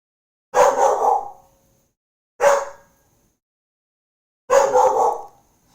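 A pet dog named Nahiri barks three times indoors, loud and near, with short sharp yaps spaced about two seconds apart and silence between, no talking.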